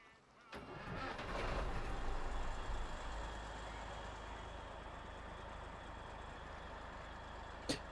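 A truck engine cranking and starting in the SnowRunner video game, a low rumble rising after a click then settling into a steady idle, fairly faint with a sharp click near the end.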